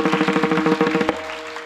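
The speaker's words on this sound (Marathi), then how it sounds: "जोरात टाळ्या वाजवायच्या." An audience at a Marathi kirtan claps in a fast, even rhythm, the rapid claps blending into a dense patter that drops off abruptly, leaving a faint steady tone.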